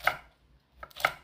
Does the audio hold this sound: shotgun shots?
no